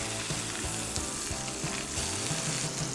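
Pork chops sizzle steadily in a skillet on a stovetop, a close, continuous crackling fry with small pops and no voices.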